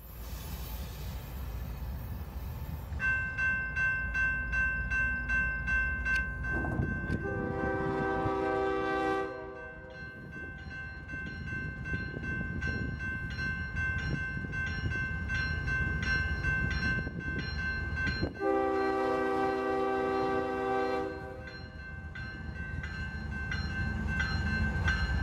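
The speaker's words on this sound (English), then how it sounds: "The rails begin to sing under this empty coal train headed back to Wyoming." An empty BNSF coal train rolls along the Fort Scott line on its way back to Wyoming, with a steady rail rumble beneath two long, loud horn sequences and no voices.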